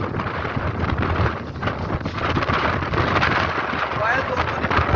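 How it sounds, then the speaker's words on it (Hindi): Strong storm wind roars steadily and loudly in Karim Park, Lahore, buffeting close up with a constant rushing noise and no pauses. "बहुत तेज़ हवा है।"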